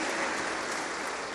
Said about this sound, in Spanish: Dele palmas a Cristo si usted lo cree.